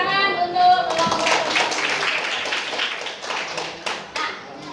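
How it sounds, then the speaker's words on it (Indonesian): Students in a classroom clapping for a group's presentation, a brief burst of many hands clapping that thins into scattered taps, moderately close, with a voice briefly audible at the start. "Tepuk tangan untuk kelompok."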